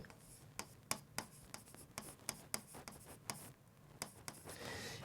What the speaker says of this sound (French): Je vais te dessiner ici une oreille.